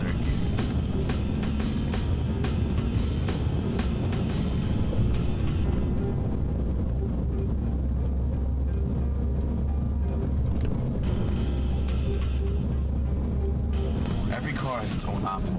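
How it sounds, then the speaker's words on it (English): A manual-transmission car engine hums steadily and low while driving through the gears, running continuously beneath a voice talking throughout. "You hear the engine start to go up, clutch in, shift to third"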